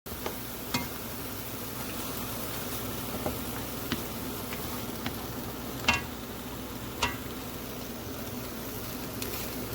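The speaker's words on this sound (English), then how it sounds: "So we're just gonna saute until butter melted and everything fragrant." Diced onion and thinly sliced garlic sauteing in melted butter, a steady low sizzle broken by occasional sharp pops and crackles.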